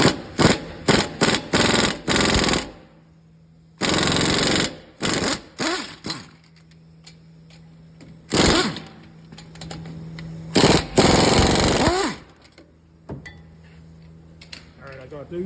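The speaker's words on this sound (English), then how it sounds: "Next thing I'm going to do is remove the four wheel bearing bolts" Impact wrench or ratchet bursts loosening the 18 mm wheel bearing bolts on a 2017-2020 Ford F-150 4x4 front hub, coming as repeated short rattling bursts with pauses, loud and close in a garage.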